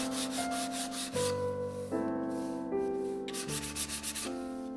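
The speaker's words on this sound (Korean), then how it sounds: "카빙이 들어가지 않은 곳을 샌딩해 줍니다." Hand sanding of a carved wooden bookmark, soft rasping strokes in short bursts near the start and again toward the end, under steady tonal background music.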